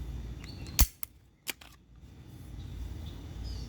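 A Glock 17 Gen 5 T4E .43 cal training pistol fires a nylon ball in a backyard, one sharp close crack followed by a couple of lighter mechanical clicks, then quiet outdoor ambience.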